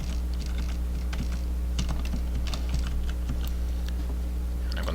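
Keys clack in quick irregular bursts on a computer keyboard while a project name is typed into a C# console application setup, close and clear over a low steady hum.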